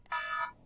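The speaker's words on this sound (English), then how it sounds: "Oh, that's our timer, guys." Timer alarm in The Sims 4 buzzing once as a steady, bright electronic tone for about half a second, fairly loud and isolated, then cutting off.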